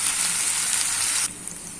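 Garlic and ginger paste sizzling loudly in hot oil for a fish dopiaza, a dense steady frying hiss that drops abruptly to a quieter crackle near the end.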